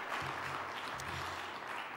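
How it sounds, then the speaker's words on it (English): Audience applause at a tourism investment summit in Botswana, a brief steady patter of clapping from a crowd, moderately faint. "A round of applause for that as well."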